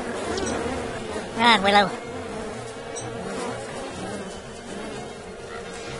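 Angry bees buzz in the video game Don't Starve, a steady insect drone with a brief louder swell of buzzing partway through, heard under a short spoken line.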